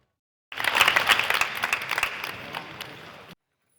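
Firefighter candidates at a physical fitness test applaud one another, a burst of steady clapping from a small group that starts abruptly, swells, then tapers off and stops.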